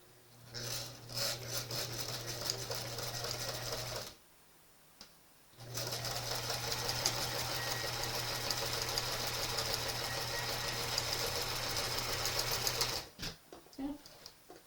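A sewing machine fitted with a quarter-inch presser foot stitches quilt pieces in two long, steady runs with a brief pause between, fairly close and even.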